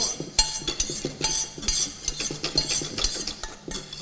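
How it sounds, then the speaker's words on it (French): A pot of milk and cream with vanilla is stirred, a utensil scraping and clinking steadily against the metal in a busy repeating rhythm, close and fairly loud, with no talk. "il faut bien remuer le lait et la crème pour prendre tous les petits grains de la vanille"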